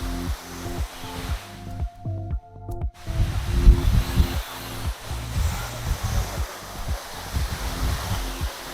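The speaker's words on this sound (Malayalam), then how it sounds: "നല്ല കാറ്റാണ് കേട്ടോ ഇവിടെ നിൽക്കുമ്പോൾ" Strong wind blusters against the microphone at the Little Kuttalam waterfall in Pathanapuram, Kollam, a loud, uneven low rumble over rushing water that briefly drops out before surging back in gusts.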